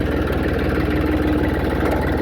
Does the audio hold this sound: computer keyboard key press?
no